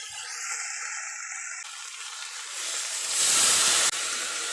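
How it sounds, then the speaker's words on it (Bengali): Water poured into a hot pan of shrimp and okra sets off a hiss that swells sharply toward the end, following a few quieter clinks and scrapes, with no talking. "সেই জন্য জলটা ঢেলে দেবো।"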